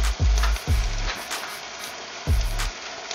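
Octopus hits a hot pan for an adobo stew, a steady sizzle and frying crackle with a few thumping stirs of a utensil against the pan.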